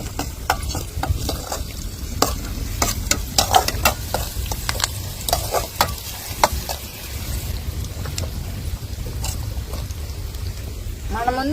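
Snail fry being stirred and mixed with salt in a pan in a village kitchen, with repeated scraping and clinking strokes over a steady frying sizzle, close and fairly loud.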